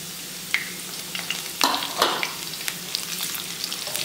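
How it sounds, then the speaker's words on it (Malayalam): Ginger strips and red chillies roast in hot oil with mustard seeds in a pan for a Kerala lemon pickle, giving a soft steady sizzle broken by a few sharper crackles and stirring scrapes, with no one talking. "ഇഞ്ചി ഒന്ന് നല്ലോണം റോസ്റ്റ് ആവട്ടെ"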